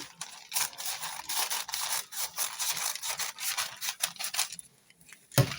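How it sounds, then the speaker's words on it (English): Scissors snipping and rubbing through fabric while cutting out a flounce sleeve pattern, a steady run of close, soft crisp cuts that tapers off near the end. "So I will cut it out."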